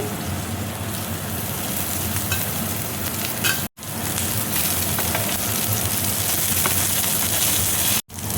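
Coriander leaves fry with chopped onion in a pan, a loud dense sizzle and crackle that cuts out abruptly twice, with no voices.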